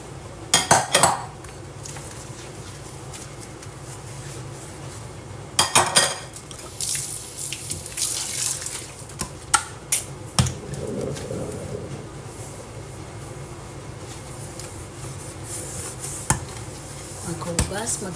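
Dishes are washed at home, with plates and cutlery clattering in sharp bursts, running water, and scattered clinks, close and moderately loud.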